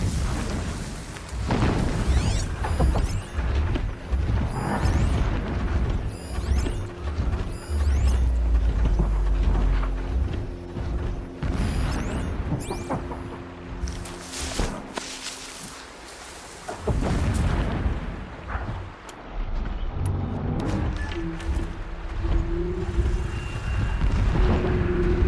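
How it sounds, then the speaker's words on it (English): Deep booms of explosions roll in from a distance in Horizon Zero Dawn, repeated rumbles layered under a musical score and game ambience throughout. "explosions in the distance"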